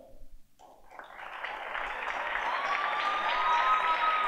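Applause for high school coaches at a sports awards ceremony, starting after a brief pause and swelling into broad, sustained clapping from a large indoor audience.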